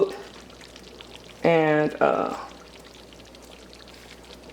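Water poured into a pot of homemade spaghetti sauce on the stove, a short gush and splash lasting about a second, with a voice speaking briefly beside it over quiet kitchen background.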